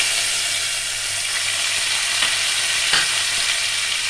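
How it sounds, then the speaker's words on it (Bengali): Onion and ginger paste frying in a pan of hot oil for a rohu fish curry, a steady close sizzle with faint stirring scrapes, continuous throughout with no talking. "পেঁয়াজ আদা বাটাটা দিচ্ছি,"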